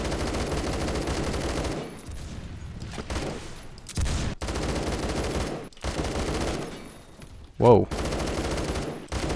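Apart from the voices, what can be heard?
AK12 burst fire with BARS barrel, Roblox Phantom Forces game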